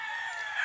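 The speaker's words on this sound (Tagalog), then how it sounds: "Manok ni Sir Alan" A rooster's sustained crow rings out steadily at moderate volume in a rural farm setting, heard as a short continuous tonal call.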